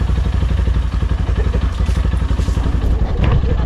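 A motorcycle engine idles close and loud with a steady, rapid chugging pulse and some mechanical clatter, running alone without talk.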